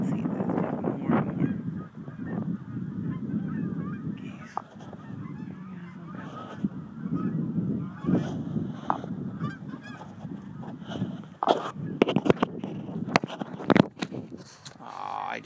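A flock of geese honks and cackles nearby on Long Island in December, overlapping calls rising and falling in bursts over a muffled background from a covered microphone.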